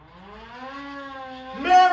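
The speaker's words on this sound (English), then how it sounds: "do that and turn the siren wide open!" Car siren on a snowy small-town Christmas night, one rising wail that holds and swells steadily, loud and close, ending in a brighter, harsher burst.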